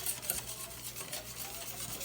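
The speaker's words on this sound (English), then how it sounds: "This is going to take about 20 minutes of solid whisking." A corn cream mixture with cornmeal is whisked in a pot, giving soft, continuous scraping strokes with a faint repeated rhythm, quiet and close, with no talking.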